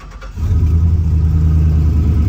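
A twin-turbo car engine cranks and catches with its electric exhaust cutout closed, then settles into a deep, steady, fairly quiet rumble close by.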